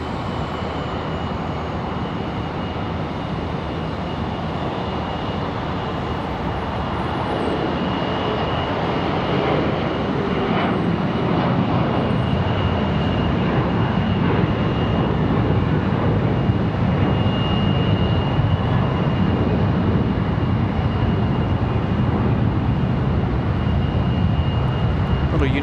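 A United Express CRJ jet departing Charlotte Douglas airport gives a sustained engine roar that swells gradually louder, with talk heard under the noise.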